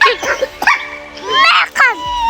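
A dog in the video game 99 Nights in the Forest gives short yips and whimpering barks, mixed with excited voices talking over it.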